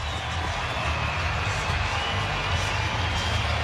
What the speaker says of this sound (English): When's the last time you've heard a crowd like this at Scotiabank Arena?